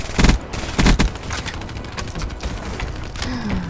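Gunfire in Call of Duty WW2: two loud bursts of rapid shots up front, then a string of lighter sharp reports and mechanical clicks at a steady loudness.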